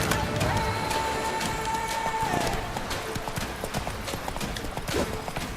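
Geralt's horse Roach clip-clops steadily on hooves in The Witcher 3: Blood and Wine, a continuous busy rhythm in a dense game soundscape with a brief tonal whine early on.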